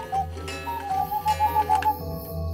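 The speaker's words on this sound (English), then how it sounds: "The cuckoo clock struck midnight when Clara woke up." A cuckoo clock ticks steadily at midnight in a quiet living room while a tonal chime-like melody plays over it, close and moderately loud, with no voices.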